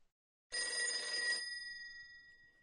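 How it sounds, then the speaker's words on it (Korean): A telephone rings late at night in the bedroom of an official residence, a single bright ring that starts suddenly from silence, then fades and lingers as a fading tone. "늦은 밤 국가재건 최고회의 의장 공관 침실로 한 통의 전화가 울리고 있었다"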